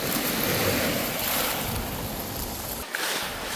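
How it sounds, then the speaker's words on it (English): Ocean surf washes up a Marco Island, Florida beach, pushing shells ashore in a steady broadband rush, with wind buffeting the microphone and a brief lull near the end. "The waves are coming up, pushing shells in, and also washing this away."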